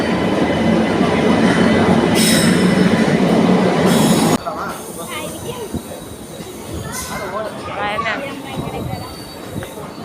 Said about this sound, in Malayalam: അത് നമ്മുടെ ട്രെയിൻ വരുന്നേ.